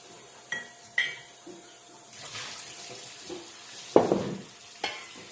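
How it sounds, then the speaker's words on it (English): Glass jars rinsed under unfiltered tap water, with running water, clinks of glass against the sink and a louder splash near the end, close up with no voices. "I rinsed out the glass jar with non-filtered water"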